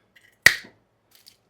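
Wire cutters snip through the negative battery wire of a Razor SX500/MX650 electric scooter: one sharp, loud click that decays quickly, with nothing else around it.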